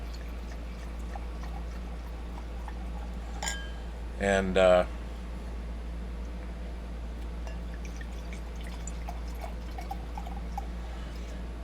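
Red Pinot Noir wine poured into a glass in one short gurgling burst, quiet and close, with people talking around it.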